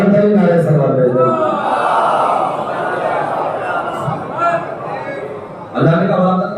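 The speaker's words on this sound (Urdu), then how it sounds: "بلند نعرے صلوات بھیج دو" Many voices of a majlis congregation in an imambargah chant salawat loudly in unison, a thick sustained roar of massed voices that eases slightly midway before surging back at full strength.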